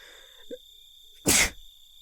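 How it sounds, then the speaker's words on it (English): One sharp, loud sneeze bursts out alone against near silence, preceded by a small faint catch of breath. "Double sneeze."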